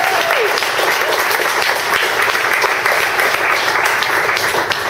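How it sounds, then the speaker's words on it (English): Sustained, dense applause from a conference audience for a speaker, loud and steady across the whole stretch with no talking over it. "let's hear a great big round of applause for the Chief Field Architect for MarkLogic, Ken Krupa"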